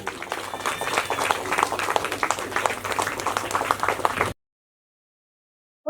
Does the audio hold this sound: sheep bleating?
no